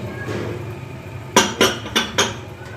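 Goat trotters for paya curry added to a pot of fried masala: a low cooking hiss followed by four quick metallic clanks of utensil on pot, close and fairly loud.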